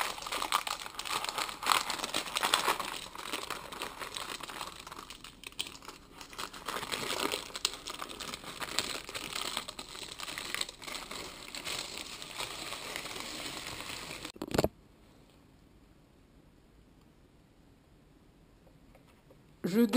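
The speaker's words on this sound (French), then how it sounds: "Je mets sur le bord du papier, du film rhodoïde." Rhodoid acetate film being placed around a cheesecake ring, with close crinkling and rustling of plastic sheet for about fifteen seconds, then near silence.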